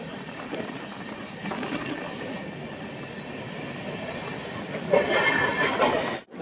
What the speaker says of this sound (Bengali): ফুল হংকিং দিয়ে পার করছে রামরাজাতলা স্টেশন